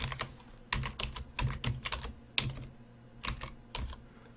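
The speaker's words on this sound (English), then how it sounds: "we're going to start by doing a little typing here" Someone types on a computer keyboard in a lecture setting, producing uneven bursts of crisp key clicks close by, with short pauses between clusters and one sharper keystroke partway through.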